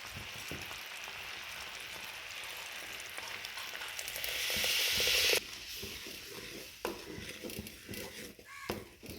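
A curry mixture for rambutan pulissery sautés in a pan, giving a steady close sizzle that swells for a moment and then breaks into stirring scrapes and soft knocks in the second half.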